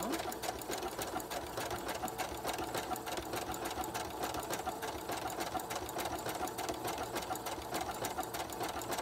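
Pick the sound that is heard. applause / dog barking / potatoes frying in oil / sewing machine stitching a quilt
sewing machine stitching a quilt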